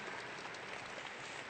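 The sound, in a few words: graduation ceremony audience applause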